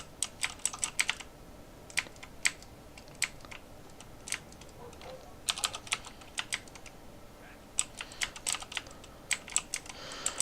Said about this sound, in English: get a new keyboard, so sorry about the constant clicking.